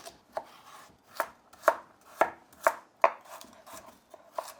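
A knife chops a split carrot on a flat cutting board, about eight crisp, evenly spaced knocks, close and clear with no talking.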